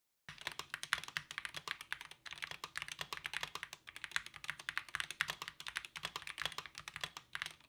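Typing on a mechanical computer keyboard, fast, close and continuous bursts of crisp key clacks with brief pauses between runs, no talk.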